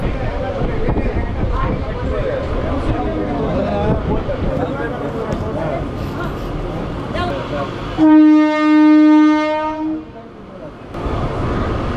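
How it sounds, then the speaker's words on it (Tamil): A train pulls in at Manavur railway station on the Tiruttani to Chennai Central line, with steady rolling rumble and a loud sustained horn blast near the end, voices talking throughout. "இப்போ ட்ரெயின் வந்து நிக்கிறது மணவூர் ரயில்வே ஸ்டேஷனுங்க."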